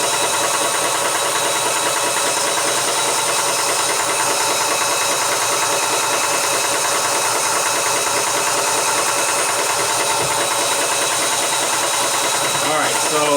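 Vevor high-pressure air compressor, rated around 5,000 PSI, fills a 3L bottle with a loud, continuous mechanical hammering drone that stays steady and close for the whole stretch.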